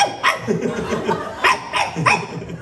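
A person imitates a dog with several barking yelps mixed with laughter, close and lively in short repeated bursts.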